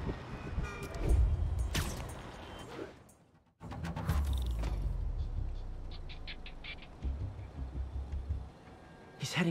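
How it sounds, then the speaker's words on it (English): Train in the Spider-Man video game, a rumbling rail roar with horn-like tones and rattling passes, loud and continuous apart from a brief dropout, with game effects layered over it. "Can't let that train out of my sight."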